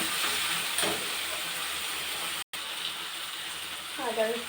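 Ginger garlic paste frying in a pan for a chicken kosha, a steady loud hiss and sizzle with a brief cut partway and a faint scrape of stirring near the end.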